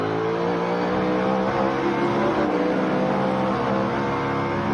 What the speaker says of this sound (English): Here's some wheel spin out of Ty Gibbs through the same corner.